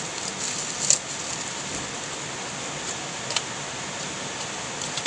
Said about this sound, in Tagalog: It's raining again and again and again.